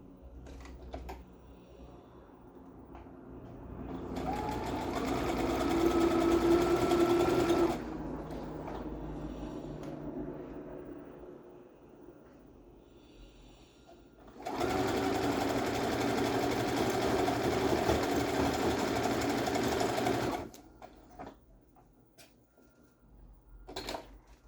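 Sewing machine running in two long bursts, stitching the second leg of a pair of panties, with a steady whirring hum and a quiet pause between runs.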